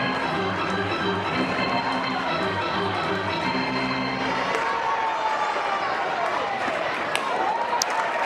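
Crowd cheering and shouting at a women's college softball game at Love's Field, Oklahoma vs Mississippi State, a steady, dense roar of fans with some chanting rhythm early on.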